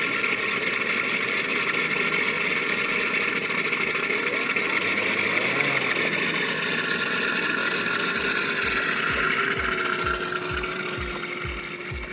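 A giant scale RC Skyraider model plane engine drones steadily while taxiing on a runway, its buzzing tone continuous and fairly loud, with a low rhythmic thumping emerging toward the end.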